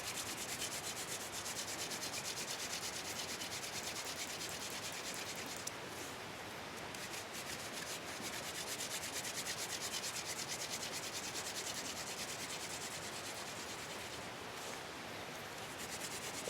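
A wooden spindle is spun by hand into a hearth board for a friction fire with a hand drill, giving a steady close dry rubbing hiss that runs on with only brief pauses, no voices.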